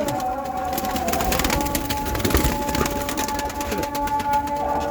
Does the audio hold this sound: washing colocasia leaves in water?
no